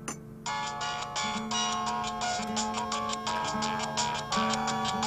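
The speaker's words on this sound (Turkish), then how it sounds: "Baba, telefonun çalıyor." A mobile phone rings in a home with a melodic electronic ringtone, repeating bright tones over a steady pulsing beat, moderately loud and alone for several seconds.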